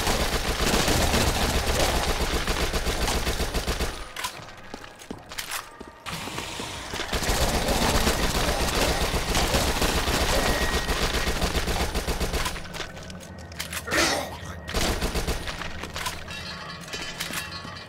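SMG and rifle gunfire in Dead Nation, dense rapid bursts of shots filling most of the span, pausing briefly twice before resuming, loud and close with mechanical clatter, no talk.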